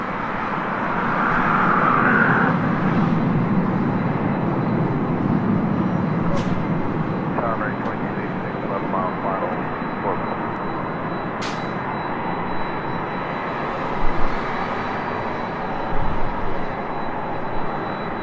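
An airliner taking off from a runway, its engines building to a broad, steady roar that swells early and then holds, with faint brief voices in the background.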